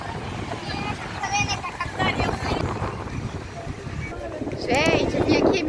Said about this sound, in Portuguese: Nossa, tá um vento aqui.